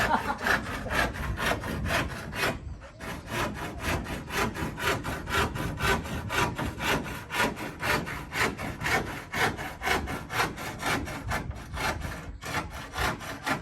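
Steady, rhythmic strokes of a hand saw cutting through wood, continuous back-and-forth rasping that runs throughout with no voices.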